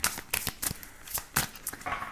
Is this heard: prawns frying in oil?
no